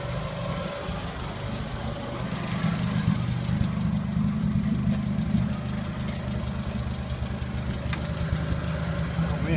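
A 1980 Chevy Luv pickup engine idles steadily with a low, even rumble throughout, close by and continuous, with no talking.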